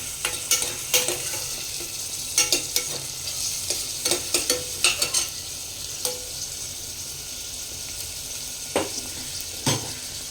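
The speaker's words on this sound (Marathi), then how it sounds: "आता डिरेक्टली याच्यात टाकूया आपण कांदा कांदा टाकायचा आणि छान असा परतवून घ्यायचा" Chopped onion sizzles steadily in ghee in a pan for mixed dal khichdi, with frequent sharp scrapes and clicks of a spoon stirring through it, close and alone without talk.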